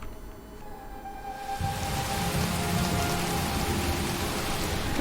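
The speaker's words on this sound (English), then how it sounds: "And more rain." Steady rain in the video game Heavy Rain pours down, becoming heavier and denser after the first second and a half, with a soft constant hiss and no voices.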